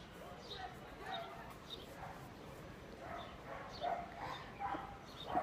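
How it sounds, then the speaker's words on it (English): A dog barks in the distance behind an indoor makeup session, with several faint, spaced barks and yips coming through a quiet room. "Now there's a dog barking."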